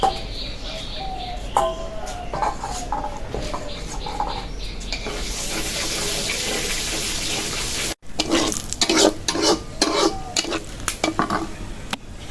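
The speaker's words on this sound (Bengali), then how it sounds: "মরিচটা একটু ভাইজে নিলাম" Dried red chillies fry in oil in a pan for a fish curry, giving a steady sizzling hiss with stirring clatter and scrapes, then sharper spatters and clinks after a brief cut.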